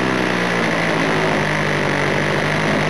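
A small OS 46 LA model glow engine idles steadily and slightly rough, a continuous buzzing drone heard up close with no talk.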